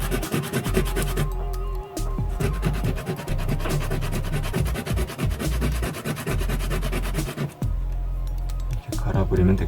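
Sandpaper rubs by hand over a human figure sculpture with continuous back-and-forth scratchy strokes. A person talks over the sanding throughout.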